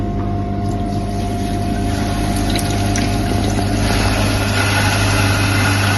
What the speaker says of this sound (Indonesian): lalu nyalakan keran debitnya